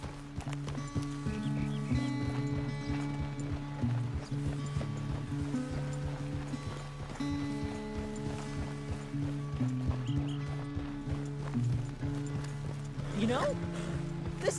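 A horse's hooves clip-clop in Red Dead Redemption 2 in a steady, rhythmic trot throughout, with a voice talking over it and music in the background.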